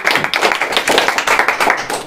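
A quiz audience at a study centre in Amravati gives a hearty round of applause, with dense, loud, continuous clapping that fills the whole stretch.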